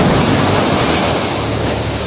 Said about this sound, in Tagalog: Ito na yung dagat guys.